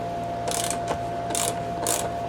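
An Egofine 1/4 inch socket wrench ratchet loosens a bolt with three quick bursts of crisp metallic clicking, close and steady over a low background hum.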